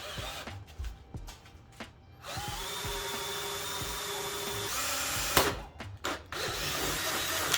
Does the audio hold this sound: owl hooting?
no